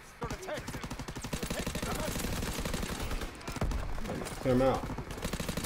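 Rapid gunfire from a weapon in Call of Duty: WW2 rattles steadily throughout, with a voice speaking briefly over the shooting.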